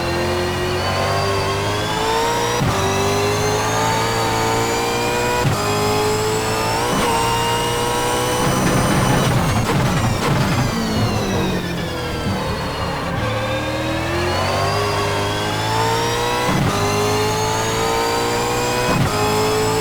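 Reiza Super V8 race car engine at Bathurst in a racing video game, loud continuous revving with repeated rising and falling pitch through gear shifts and a rougher, busier stretch midway.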